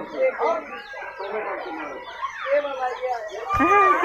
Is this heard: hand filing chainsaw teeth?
no